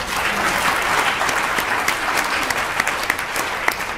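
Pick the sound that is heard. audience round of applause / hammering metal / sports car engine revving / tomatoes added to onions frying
audience round of applause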